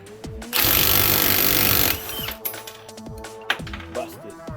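A Ryobi One+ HP cordless impact wrench with a 9/16 socket hammers on a 3/8 bolt in one loud, dense burst of rapid impacts lasting about a second and a half, then stops abruptly, followed by quieter clinks and handling noises.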